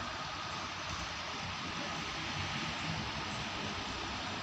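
A GE GEK diesel locomotive hauling ordinary train 257 out of Nakhon Pathom station revs its engine in a steady, loud broadband roar with no voices.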